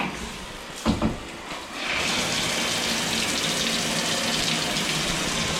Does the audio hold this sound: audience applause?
no